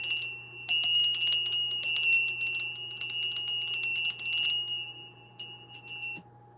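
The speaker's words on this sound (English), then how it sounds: "And I'm going to ring the bell." A small hand bell rings repeatedly during a spiritual livestream, rapid bright jingling strokes close to the microphone for several seconds, then a pause and a few last shakes before it stops, with no talk.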